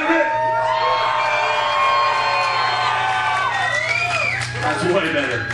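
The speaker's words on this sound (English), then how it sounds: "Give yourself a round of applause, damn it!" A crowd at a band's CD release party cheering and whooping loudly, with shouts and some clapping mixed in, sustained throughout.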